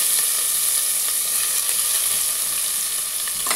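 Green chili and onion dropped into a hot cumin and mustard seed tempering for an idli-dosa breakfast, giving a loud, steady, close sizzle that runs unbroken throughout.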